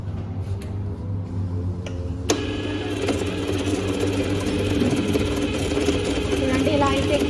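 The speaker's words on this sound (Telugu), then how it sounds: "బ్రష్లు ఎలా క్లీన్ చేయాలో మిషన్లో ఈ వీడియోలో చూపిస్తాను" A hair brush cleaning machine in a salon hums with a steady mechanical drone, rising to a louder, busier whir partway through as the brush is worked in it, running continuously throughout.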